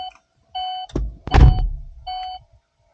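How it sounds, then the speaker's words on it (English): Door-open warning chime in a Buick Verano (Astra J), a few steady tonal beeps separated by pauses, with a thudding door-handling clunk in the middle, close and clear with no talk. "we've got the beeping going on, so it knows the door's open"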